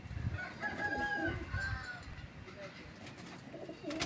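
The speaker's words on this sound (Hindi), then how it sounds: "ये कबूतर इंशाल्लाह शाम तक उड़ेंगे" Teddy pigeons calling amid other fowl, soft cooing and clucking with a faint crow-like call, heard at low level against a busy outdoor background with some voices.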